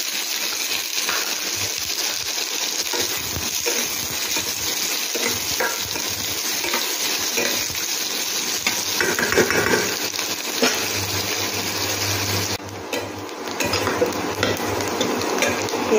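Chopped onion frying in white oil in a wok for restaurant-style mushroom curry, a steady close sizzle running throughout with occasional stirring scrapes and clinks, and no talk.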